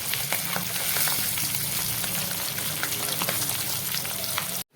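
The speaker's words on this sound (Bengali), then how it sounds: "এই যে মাছের মুড়োটা ভাজা হচ্ছে" A fish head fries in hot oil for a Bengali fish curry with potatoes, a dense continuous sizzle with crackling pops close by, steady throughout before cutting off abruptly at the end.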